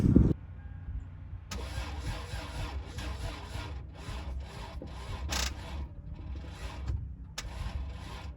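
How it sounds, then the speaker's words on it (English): Lexus IS300 cranks and fires on a cold start, with a brief loud catch at the start and then a steady, fairly quiet idle. Its rough mid-range rumble carries on for several seconds with no talking. "How you want to hear a cold start?"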